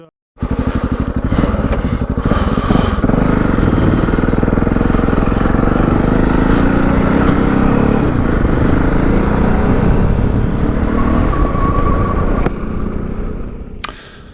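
A Yamaha XT660Z single-cylinder motorcycle ridden on a Sunday loop, its engine droning loud and steady for the whole stretch, with wind rush mixed in and a fade as it ends.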